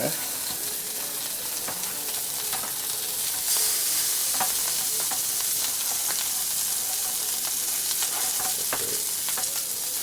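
Shrimp and salmon frying on a grill, a constant bright sizzle and hiss close by, dotted with small pops and crackles and left almost entirely alone without talk.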